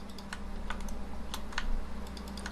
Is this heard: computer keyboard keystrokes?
yes